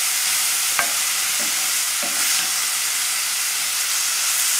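Vegetables and herbs sweating in a hot pan, a steady soft sizzling hiss throughout with a few light knocks of a utensil stirring.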